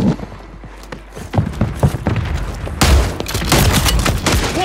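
Call of Duty: Warzone 3 gunfire: scattered single shots give way to a dense, loud stretch of rapid automatic fire and crackling bursts, with no talk over it.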